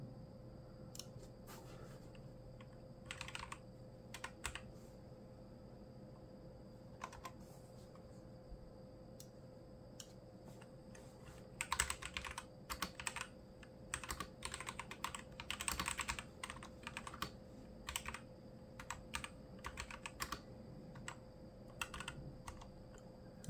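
Quick keystrokes clatter on a SmartDuck XS61K PRO 60% budget mechanical keyboard, in short irregular bursts of close clicky taps over a steady background hum.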